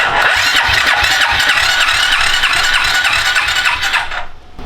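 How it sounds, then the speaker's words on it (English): A Suzuki King Quad 300 4x4 ATV engine with its throttle stuck open runs at a loud, steady high rev, then drops away abruptly near the end as it is shut off. "it's probably going to rev like the dickens, but I'm going to shut it off"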